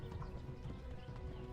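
A horse gallops in the medieval video game Kingdom Come Deliverance, its hooves giving a steady, dense, continuous clip-clop that stays loud and close throughout, with no talking.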